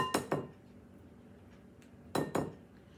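Two brown eggs are cracked on the rim of a bowl and dropped into cherry cake batter, giving two quick pairs of sharp taps, one at the start and one near the end, with quiet between.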